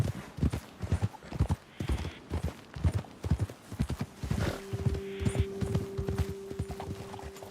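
Horses in Red Dead Redemption 2 clip-clop over ground in an uneven galloping rhythm, hoofbeats fairly quiet, with a steady low tone entering partway through.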